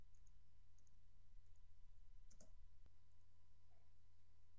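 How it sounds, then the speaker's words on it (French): A computer mouse gives a few faint, sparse clicks over a low steady hum, single sharp ticks spaced a second or more apart, quiet and close, with no talk. "je clique sur le nom de mon produit pour le sélectionner"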